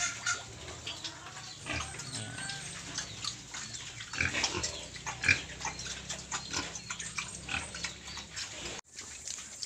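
A boar and other pigs grunt and snort repeatedly up close on a farm, with irregular rhythmic grunts, some rustling and faint chicken clucks in the background.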